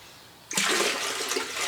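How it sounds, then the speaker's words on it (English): Water pours into a plastic container used for electrolysis rust removal, starting suddenly after a quiet moment as a close, splashing gush that keeps running to the end. "I'm going to just add a little bit of water"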